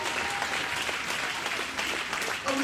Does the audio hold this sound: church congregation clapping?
yes